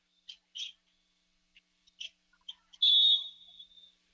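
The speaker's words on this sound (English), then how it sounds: "And now a whistle underneath with 1:08 to play." A referee's whistle at a girls' state championship basketball game rings out in a long, loud, sharp blast after several short faint chirps and squeaks, with a bright tail fading away.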